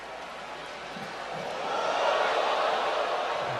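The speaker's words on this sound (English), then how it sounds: "The crowd like that bit of skill." Football stadium crowd at a Manchester United summer tour match against a Singha All Star XI, a broad roar that rises and swells in the middle and then holds steady, with no clear voice above it.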